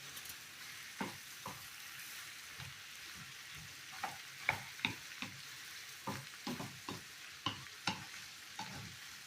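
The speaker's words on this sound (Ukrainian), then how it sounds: "Бачите, як воно вже все гарнесенько підсмажується." Pork ribs with pork fat frying in a pan with a steady sizzle, broken by repeated scraping and stirring clatters at an irregular pace.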